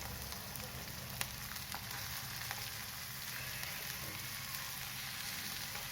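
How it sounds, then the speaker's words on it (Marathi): Onion sautéing in a little oil: soft, even frying sizzle with fine crackle, faint and continuous, broken by a few light ticks of a utensil and no voices. "थोडेसे तेल टाकून कांदा परतून घेते."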